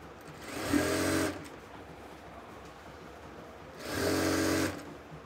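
A sewing machine stitches the seam of a palazzo pant in two short bursts, each a steady, close whirring run of about a second, separated by a quiet pause.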